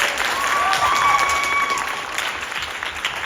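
A crowd at a high school jazz band concert claps and cheers steadily, the applause full and lively before tapering slightly toward the end.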